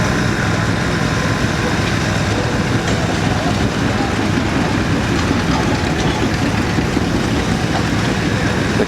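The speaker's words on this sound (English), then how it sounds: "The kerosene engine." A Mogul kerosene engine running at a steam engine show in Mason, Michigan, giving a steady, loud mechanical drone with a continuous low rumble and no break.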